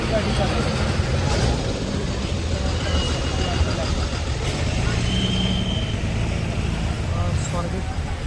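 Road traffic outside the Swargate ST bus stand in Pune rumbles steadily, a continuous wash of engines and passing vehicles with occasional faint horns, heard from close by.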